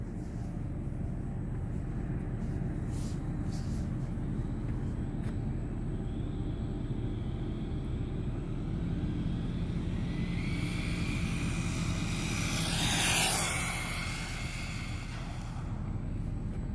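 An Absima AB3.4 RC car's electric motor runs flat out on a 2S battery, a steady whine and rush that swells to a loud peak as the car passes close around thirteen seconds, then fades.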